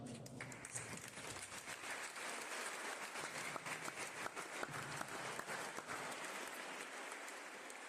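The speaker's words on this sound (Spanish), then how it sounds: "regálenle un aplauso al Señor" A church congregation claps in praise during a sermon, a broad sustained wash of many hands lasting the whole stretch, even and continuous, captured at low level without voices over it.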